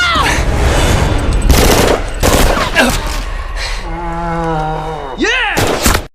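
Sharp bursts of gunfire ring out in quick succession, loud and close, followed by a drawn-out wailing cry and a final shout.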